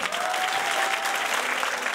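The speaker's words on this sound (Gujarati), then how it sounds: "જોરદાર તાળીઓથી બાબુભાઈને વધાવજો" An audience at a Saneh Milan gathering in Badargadh applauds Babubhai with steady, dense clapping that fills the whole stretch evenly and without a break, with no voices heard over it.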